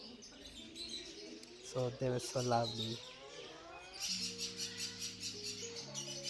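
Caged blue gold finches and mini doves in a London pet store: bright chirps and short tweets, then soft layered cooing. A person talks quietly over the birds near the start.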